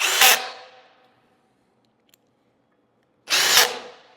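Power drill driving screws through a bed board into a headboard during bed assembly: two short, loud whirring bursts, one at the start and one near the end, separated by quiet.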